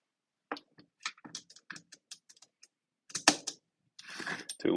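The lock on a TEKTON 3/8-inch drive deep socket set rail is twisted, giving a run of small close plastic clicks and ticks, followed by a couple of louder rattling slides and scrapes.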